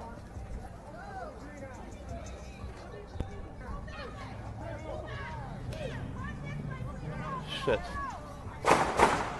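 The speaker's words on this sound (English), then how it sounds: "These seem to be gunshots." Distant gunshots from a shootout at the George Floyd Memorial crack sporadically beneath ongoing talk, with a few louder, sharper bangs near the end.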